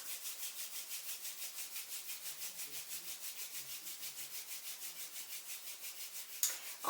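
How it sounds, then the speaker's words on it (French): Hands rubbing together during a Qi Gong exercise, a steady rhythmic swishing friction repeated evenly at a quick pace, soft and close, with a brief knock near the end. "À nouveau, on frotte nos mains."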